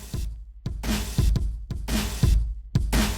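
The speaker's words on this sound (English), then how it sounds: "So all those drums together sounds like this." Layered, distorted drums in a hip-hop beat production hit in a punchy repeating pattern, each heavy broadband crack followed by a brief gap, loud and alone.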